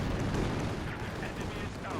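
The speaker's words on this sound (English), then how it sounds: "Good strafe coming in here with the IL-2 Sturmovik attacks again" IL-2 Sturmovik strafing run in Company of Heroes 2 on a wartime battlefield, dense rumbling bursts of cannon and machine-gun fire mixed with explosions, continuous and heavy over two seconds.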